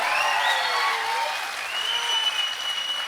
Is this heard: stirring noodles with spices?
no